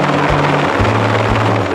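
A helicopter lands during an EMT training exercise, its rotor and engine roaring loud and steady up close, with deep low beating pulses throughout and no voices.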